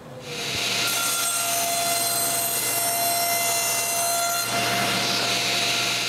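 A bandsaw cuts plywood into kayak wheel supports, giving a loud, continuous whining buzz of blade through wood that holds steady for several seconds and then shifts slightly as the cut changes.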